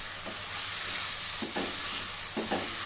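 Brown fried rice with green onions is stir-fried in a pan, a steady loud sizzle with a few soft scraping stirs of the spatula mixed in, close by and without speech.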